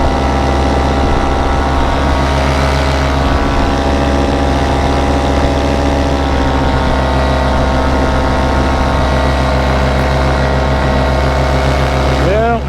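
Paramotor engine droning continuously through flight, a loud buzzing hum with steady harmonics, close to the listener and unbroken, with a brief unsteady wobble partway through and wind noise underneath.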